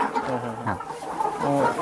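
Laying hens cluck softly nearby, a few short, throaty calls spaced across a quiet moment on a poultry farm.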